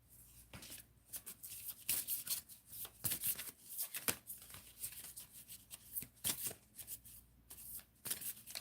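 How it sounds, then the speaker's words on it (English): Tarot cards being shuffled and pulled for a pick-a-card reading: quiet, close riffling and slapping of cards in repeated bursts, with soft papery flicks between them. "I'm pulling a card for you."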